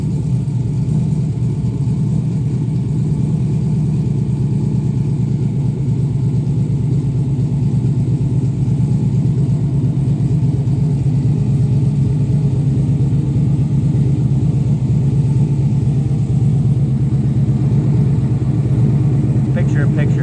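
A Mazda RX-7 engine, built toward 1000 hp, runs on a dyno at low boost, giving a steady, loud low rumble that holds without a break for the whole stretch.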